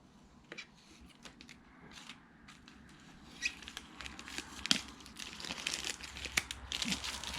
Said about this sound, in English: also remember to peel off this this protection layer of foil inside before you put it on